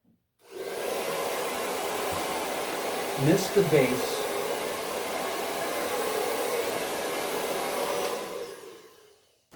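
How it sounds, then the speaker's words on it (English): A blow dryer runs on hair with a steady loud whoosh, starting abruptly and stopping near the end; a brief voice speaks partway through. "I'll even lightly take my blow dryer"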